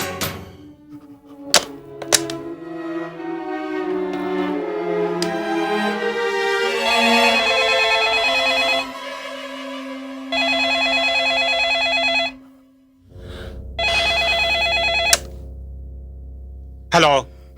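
A telephone rings at midnight with an electronic ringtone melody repeating in bursts separated by short pauses, ending with a couple of sharp clicks.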